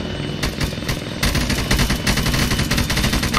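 Gunfire rattles in an Arma 3 combat mission, with rapid overlapping bursts and single cracks, some near and loud, others further off, in a dense, continuous exchange.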